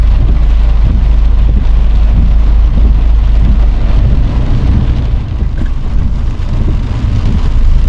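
Heavy rain pouring during a downpour in Fang, Thailand, a loud continuous roar with deep rumbling low end from wind or water on the microphone, steady across the whole stretch with no voices.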